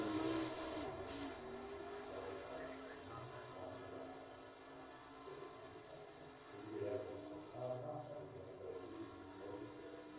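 A race car taking the track for qualifying at a North West Racing Association event, its engine droning at a distance, fairly faint and rising and falling as it circulates.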